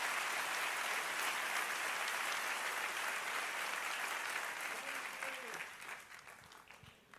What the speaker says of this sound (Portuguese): Você consegue aplaudir ao Senhor pela sua palavra?